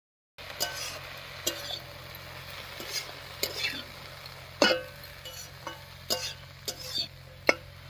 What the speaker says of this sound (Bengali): শাকটা দিয়ে একটু নাড়াচাড়া করে নিয়েছি